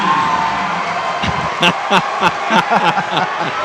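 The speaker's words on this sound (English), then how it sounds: "The crowd loves it. Radner bringing the house down." A high school basketball gym crowd cheering after a slam dunk, heard as rising whoops and yells. A commentator talks loudly over the noise in short bursts.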